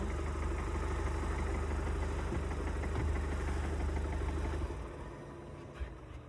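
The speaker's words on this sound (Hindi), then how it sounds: "मैं गाड़ी बंद कर देता हूँ।" A Kia Seltos HTK Opt diesel engine idles steadily with a low, even throb, then is switched off about two-thirds through, leaving a quieter tail with a faint click.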